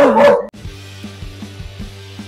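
A single sharp dog bark or yip at the start, from a street dog in the Loma San Jerónimo neighborhood of Asunción, Paraguay, followed by a steady low mechanical hum with faint rhythmic clicks.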